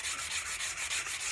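Sandpaper of 120 grit rubs varnish off a wooden tomahawk handle in quick, even back-and-forth strokes, a close rhythmic scratchy swish with no talking.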